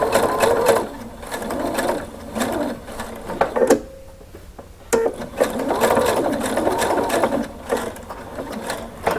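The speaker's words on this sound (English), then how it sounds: "then continue stitching all the way down to the end" A sewing machine stitches rickrack onto a girl's skirt in close, buzzing runs, pausing briefly near the middle before resuming the steady whir.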